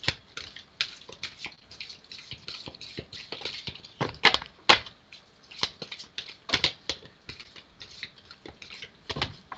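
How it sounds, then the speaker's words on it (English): A deck of tarot cards being shuffled by hand makes close, crisp riffles and soft slaps in quick uneven bursts, with a few louder flurries midway and no talking. "I'm going to give you a good shuffle here."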